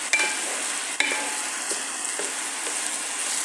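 Egg and bitter gourd (ampalaya) sizzle steadily in a large wok while a utensil scrapes and stirs through them in a few distinct strokes, close and clear with no talking.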